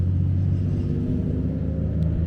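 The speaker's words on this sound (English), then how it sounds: "Oh, TVR passing by." A TVR sports car passes near the Nürburgring, a steady, loud, low engine rumble and road roar that holds constant throughout the short stretch, with no talk.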